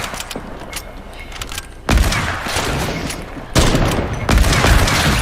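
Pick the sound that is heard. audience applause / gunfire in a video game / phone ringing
gunfire in a video game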